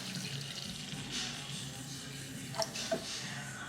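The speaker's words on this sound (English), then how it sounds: "Then add milk." Milk poured into a flour roux in a pan for bread lasagna sauce, a steady soft liquid wash under low background rumble, with a couple of faint clinks near the end.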